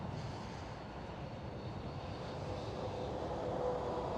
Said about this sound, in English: And the KLM 737 is passing by.